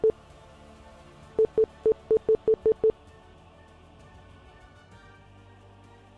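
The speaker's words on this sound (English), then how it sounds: "If you don't know what that beeping sound is, that is a GPU crash." A computer emits a string of short electronic beeps during a GPU crash: one beep, a pause, then seven quick regular beeps, faint against a low background hum.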